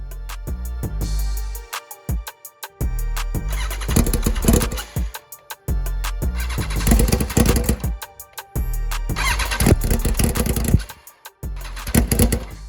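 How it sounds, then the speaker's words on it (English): A 2021 BMW S1000RR motorcycle, rebuilt after a wreck, cranks over repeatedly with a rapid starter whir, catching and firing in loud brief revving bursts before dying out, several attempts in a row. "The bike was cranking over, but I couldn't get it to continue to stay idling."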